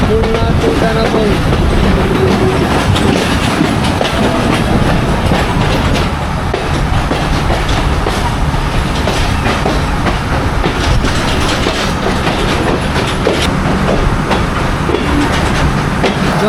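The Betna Commuter train on the Khulna to Benapol line rolls into Jessore railway station, wheels clattering loudly and continuously over the rails with faint squeals, heard from inside the carriage.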